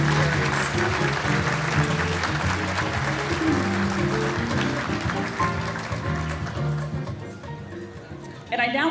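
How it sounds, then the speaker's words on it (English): Guests at a formal mayors' dinner applaud the dignitaries, a broad, steady round of clapping from a large room with background music beneath it, fading near the end before a brief burst of other sound. "A round of applause for all of our dignitaries."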